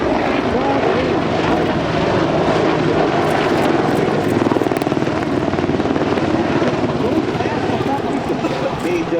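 A Boeing AH-64D Apache helicopter flies a display at the Singapore Airshow, its rotor and engine roar loud and continuous with a fluttering beat, while an announcer speaks over a public address system.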